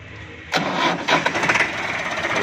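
A 2019 385 tractor engine starts up and keeps running close by, a loud steady diesel-like rumble that kicks in after a quiet moment and continues alone.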